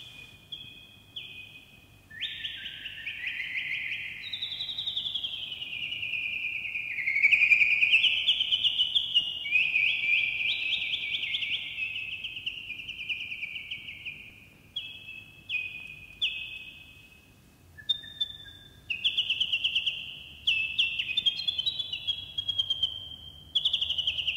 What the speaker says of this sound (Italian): Non per nulla l'usignolo è il cantore per eccellenza.